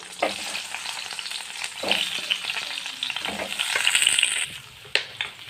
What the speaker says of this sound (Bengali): এরপরে আলুগুলো ভেজে নেব লবণ দিয়ে